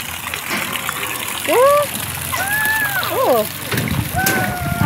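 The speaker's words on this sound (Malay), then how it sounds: "Ada sungai lah, cantiknya." A river flows beside the outdoor tables at Butik Roti Maria in Nilai, a steady broadband rush running the whole time while voices talk over it.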